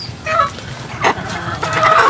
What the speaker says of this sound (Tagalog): ayan yung mga manok natin dito